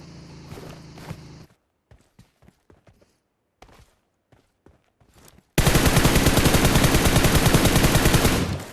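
A gunfire spray in PUBG Mobile: after some earlier shots and quiet footsteps, a long loud burst of rapid automatic fire rattles on for about three seconds.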